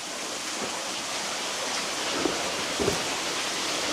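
A waterfall rushes steadily near a wet stone cavern, a dense broadband roar with a few faint knocks or drips over it.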